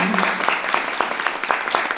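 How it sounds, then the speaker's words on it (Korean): Audience clapping at a symposium, a short burst of moderately loud applause with distinct hand claps, heard at close range with a faint voice underneath. "박수 부탁드리겠습니다."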